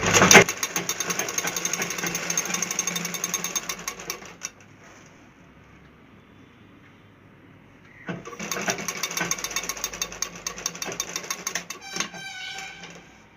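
A sewing machine stitches a semi-stitched lehenga in loud, fast, continuous mechanical runs, with a quiet pause in the middle before the whirring stitching resumes and then winds down.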